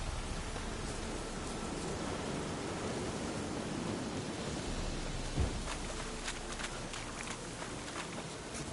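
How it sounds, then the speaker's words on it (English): Steady rain in The Witcher video game hisses evenly throughout as a dense wash of noise, with a brief soft thump midway and a few faint ticks near the end. "If it don't stop raining, my arse will rot off."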